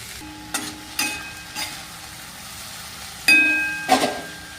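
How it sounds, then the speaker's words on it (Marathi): Spices are stirred into okra masala bhaji frying in a pan: a faint sizzle underneath, broken by a few clinks and scrapes of the spoon against the pan. "मस्त मसाले आपल्याला हलवून घ्यायचे"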